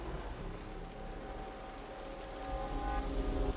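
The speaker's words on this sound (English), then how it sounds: "The rain's getting heavier." Steady rain in the video game Wuthering Waves hisses across the whole clip, growing denser and louder toward the end, with a low rumble underneath.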